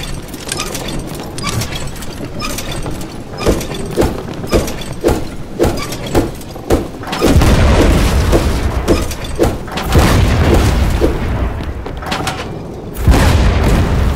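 Ship cannons boom repeatedly in Blazing Sails, a pirate naval battle game on PC, with heavy loud blasts and crashing impacts recurring every second or so amid a dense, continuous battle din.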